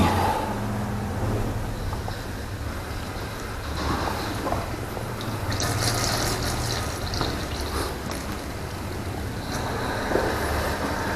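Water is poured over a fishing reel to rinse it, making a continuous close splashing and trickling hiss that runs throughout with small surges.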